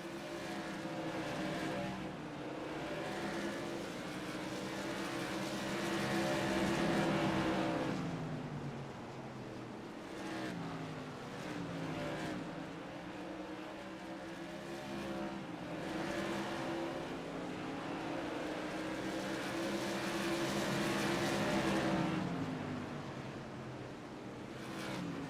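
Tour modified race cars roar around a short bullring track, engines rising and falling in repeated waves as the field passes by, loud and continuous with no talk.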